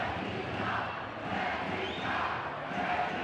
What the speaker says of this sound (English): It's traveling Lithuanian fans here, making a lot of noise about that.